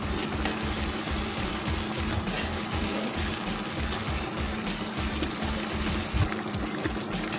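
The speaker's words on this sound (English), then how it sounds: "Add some hot water." Hot water being poured into a pot of fish maraq, an Arabian-style fish soup, giving a steady, continuous splashing wash that stays fairly loud and even throughout, with no talking.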